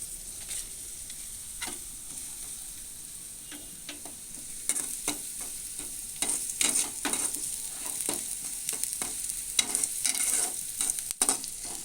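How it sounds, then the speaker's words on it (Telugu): Onions sizzle steadily while frying in a pan for chicken curry, with frequent scraping stirs of a spoon that grow busier toward the end, close and clear with no voices. "ఉల్లిపాయ రెమ్మలు వేసానండి, ఎర్రగా వేగాయి."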